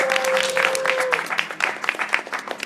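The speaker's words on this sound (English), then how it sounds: "Everybody give yourselves a round of applause." Audience applause fills a hall with dense, steady clapping from many hands, sustained throughout with little else heard.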